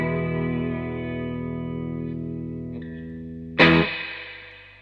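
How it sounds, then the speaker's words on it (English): A sustained guitar chord rings through a Surfy Industries Surfy Bear Metal spring reverb pedal and decays smoothly, then a sharp spring crash bursts out and fades into a lingering reverb tail. "the Metal provides articulated and warm reverb with smooth and lush decay"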